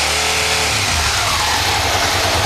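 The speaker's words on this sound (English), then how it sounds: "Here's what it looks like when we rev it up." A car engine revs up loudly and close, the pitch climbing from a low rumble into a sustained high rev with no talking.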